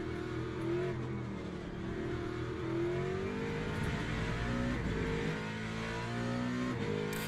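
Race car engine in the Le Mans Ultimate sim racing game, droning steadily with rising and falling pitch as it shifts up through the gears, close and continuous with no voices.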